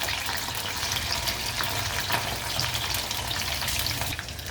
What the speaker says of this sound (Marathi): आपण आता टाकतोय कोनफळ.